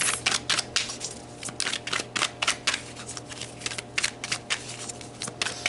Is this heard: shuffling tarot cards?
yes